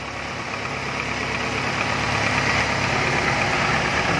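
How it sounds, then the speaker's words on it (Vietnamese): Steady idle of a 2002 Daewoo Lanos engine, a smooth continuous mid-low rumble heard close up that swells slightly louder toward the end, with no one talking. "Đó, máy đang nổ nè anh chị thấy không?"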